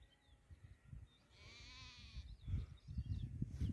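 Grazing sheep in a distant flock bleat once in a long, wavering call, with low rumbling wind or handling noise near the microphone.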